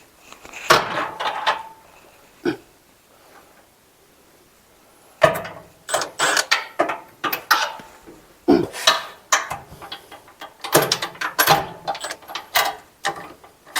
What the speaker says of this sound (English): now that I got the wrench on the nut